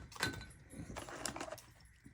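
A small set of keys for locking a Synology DS923 NAS jangles and clinks quietly in a hand, a few brief metallic chinks over roughly two seconds, close but faint, with no one talking.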